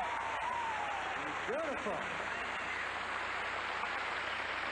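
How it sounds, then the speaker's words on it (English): Audience applause for married-women contestants at the 1985 Mrs. America Pageant, a steady dense wash of clapping throughout, with a voice speaking over it briefly. "give them a welcome round of applause"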